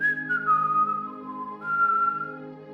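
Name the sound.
person whistling to imitate a bird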